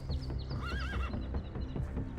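A horse in a small woodland meadow lets out a loud, close, wavering whinny, with a few soft hoof thuds around it and no talking.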